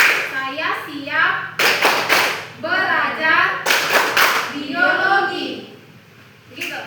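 Students in a classroom teaching demonstration clap out a biology clap chant. Loud bursts of rhythmic hand claps alternate with young voices chanting and speaking between the beats.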